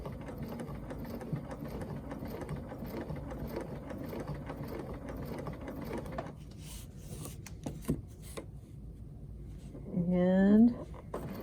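A quilting sewing machine stitches along a Westalee ruler in a steady low mechanical whir under continuous talking, stopping partway before a brief rising whine near the end.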